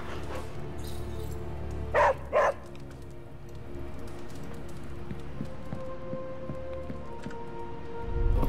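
A dog in the video game Midnight Suns gives two quick barks close by, set against a steady backdrop of rain and low ambient hum, followed by quiet game atmosphere.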